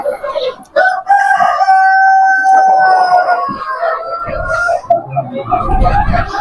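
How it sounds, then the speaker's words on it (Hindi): Chickens and a rooster on a farm: a loud, close rooster crow stretches across the middle, with hens clucking around it and a brief burst of rustling or flapping near the end. "मुर्गियां थोड़िया जो डर गई ने"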